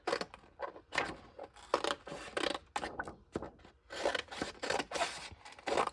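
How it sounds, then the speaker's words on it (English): Scissors snip through paper journal cards in a rapid run of close, crisp cuts, each short burst separated by brief pauses, with no voices. "I'm just going to cut out some of these little pretty journal cards here"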